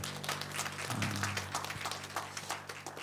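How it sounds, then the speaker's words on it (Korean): A church congregation claps together in thanks to God during a Sunday service, a dense burst of many hands applauding close and full for a few seconds, with a low tone sounding briefly underneath. "우리 하나님께 감사의 박수를"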